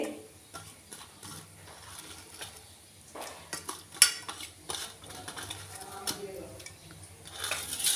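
Potatoes being hand-mixed with chopped raw onion in a kitchen bowl, giving soft irregular squelching and occasional light clinks against the dish, close and quiet.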